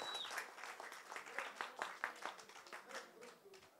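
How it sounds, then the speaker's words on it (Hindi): Applause from a crowd at a film poster launch event, a moderate burst of clapping with irregular, fairly faint claps that thin out toward the end. "एक बार तालियां हो जाए सबसे पहले जोरदार"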